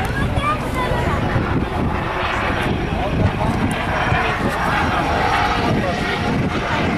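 An airplane's engine roars steadily and loudly throughout at a small airfield during a picnic at Przylep Airport, a broad continuous drone filling the scene.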